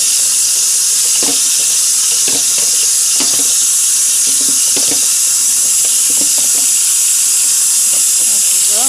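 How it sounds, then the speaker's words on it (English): Cooked spaghetti rinsed in a strainer under a running tap: a loud, steady hiss of water with scattered splashes and clatters as the pasta is moved about, and no voices. "now we have our spaghetti in the strainer. What you do, you just wash it up."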